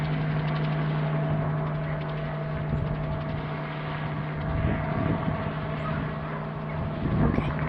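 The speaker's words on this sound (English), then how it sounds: "Here the helicopter just took off from the airport." A helicopter climbs away after takeoff from an airport, a steady droning rotor and engine hum with a constant tone, heard outdoors from a distance amid light wind noise.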